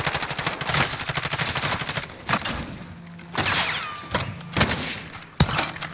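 Video game firefight aimed at an enemy sniper, with sharp gunshots and rapid bursts cracking out in irregular clusters, loud and close, with brief pauses between volleys.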